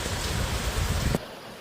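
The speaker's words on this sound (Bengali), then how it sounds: "হাওয়া নেই, দাঁড়িয়ে বৃষ্টি হচ্ছে ঝমঝম করে।" Heavy, steady rain pouring straight down without wind in a rural Bengal village, a dense close hiss that fills the sound and then cuts off abruptly near the end.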